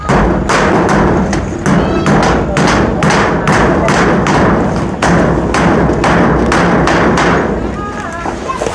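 Dense, rapid hammering as nails are driven into corrugated zinc roofing sheets on a house roof, loud metallic thuds falling in a fast, steady rhythm with several strikes overlapping, close by and continuous throughout.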